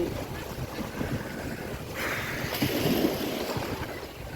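Choppy sea waves slap around a boat off Beykoz on the Bosphorus, a steady rough wash mixed with wind buffeting the microphone, continuous and moderately loud, with faint voices in the background.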